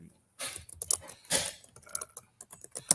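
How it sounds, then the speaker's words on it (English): Someone types on a computer keyboard in quick irregular bursts of sharp clicks and key taps, close and clear, separated by short pauses. "I'm typing in Deion Sanders' card."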